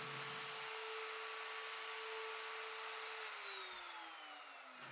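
A high-pitched power router whines steadily while recessing the back of a plywood clock, its pitch dropping slightly as the bit bites deeper near the end.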